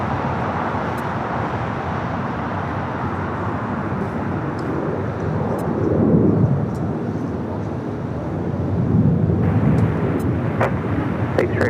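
An Airbus A321 airliner at LAX gives a steady, far-off broadband roar that swells twice as it passes, with some wind and background traffic noise.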